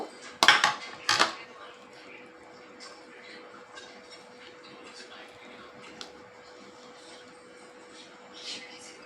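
Fish paturi being set onto a plate and its leaves lifted away, with two sharp clinks of the plate up front followed by quieter scraping and rustling handling sounds.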